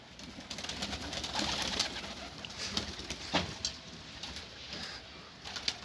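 Pigeons coo softly amid rustling and fluttering as they are brought out of their loft, a continuous, fairly close murmur of several birds with no talking.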